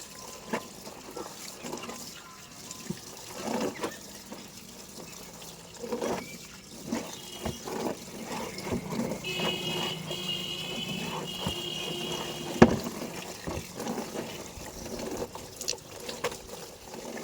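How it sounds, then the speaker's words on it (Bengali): A tea-stained bed sheet is washed by hand, with wet slapping, sloshing and trickling water in irregular bursts, fairly close and moderately quiet. "আমি একটা বিছানার চাদর ছিল, তো সেটাকেই এখন আমি ধুয়ে দেবো"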